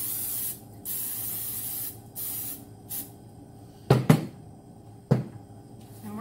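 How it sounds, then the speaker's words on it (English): Several short hissing bursts of cooking oil aerosol spray onto a baking pan, close up, followed by two sharp clunks of metal being set down. "we're going to spray our pan"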